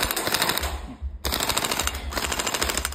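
Electric AKM47 gel blaster with an 11.1 V battery firing loud, rapid full-auto bursts up close, with a brief pause before the buzzing stream of shots resumes.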